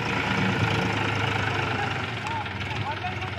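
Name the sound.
tractor engine idling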